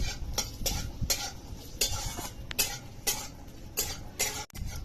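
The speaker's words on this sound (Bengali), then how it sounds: "চীনা বাদামগুলো এবার চটচট করে ভাজছে" Peanuts frying in hot oil for chirer polao, with a steady crackle and sizzle broken by regular scraping stirs and the clink of a utensil against the pan, close and fairly loud.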